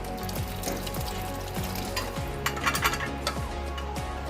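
Boiled peas being stirred into ragda masala in a pan, with a steady sizzle under a repeated rhythmic scraping of the spoon, close and fairly loud with no voices.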